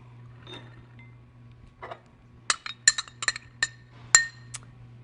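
Fresh corn kernels cut from the cob being measured into a glass bowl: a few soft rustles, then a quick cluster of bright clinks and ticks of kernels striking glass, close up over a low steady hum.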